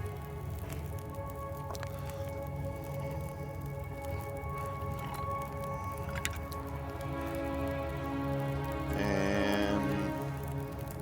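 Food cooking over a fire in The Long Dark, a steady low crackle and sizzle with faint patter and tonal hums running throughout, swelling slightly near the end.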